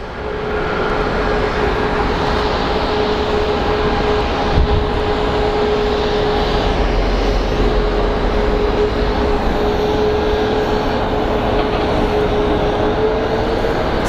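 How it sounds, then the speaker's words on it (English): A Southwest Airlines jet taxis at Phoenix Sky Harbor Airport, its engines a steady, continuous whine and roar that holds level throughout, with a faint sustained tone riding on top. "So that is Southwest 1640 taxiing to get to Portland."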